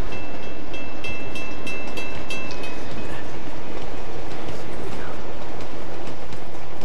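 Moving train in Uncharted 2, a loud, steady rumble of rolling rail cars with rhythmic clacking and metallic ringing tones over dense, continuous background noise.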